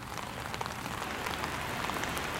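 Steady rain falls across a park in Hiroshima, a dense, even patter of drops on wet surfaces that fills the whole stretch without pause, with no voices.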